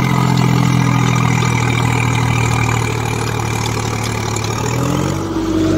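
A cheaply bought farm tractor idles close by, its low, throbbing engine note holding steady and loud throughout, with a slight dip in pitch near the end and no talking.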